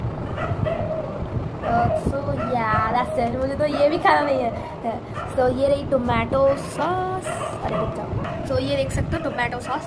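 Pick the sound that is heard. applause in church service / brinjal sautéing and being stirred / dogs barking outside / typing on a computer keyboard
dogs barking outside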